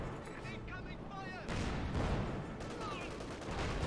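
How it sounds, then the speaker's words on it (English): Gunfire from an M20 armored car in Company of Heroes 2, a dense rattle of shots with a sharp burst near the midpoint, mixed into busy battle noise while people talk over it. "Oh, the M20 is already firing?"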